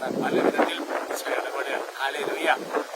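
Wind gusts buffet the microphone in low rumbling bursts while a person talks over it.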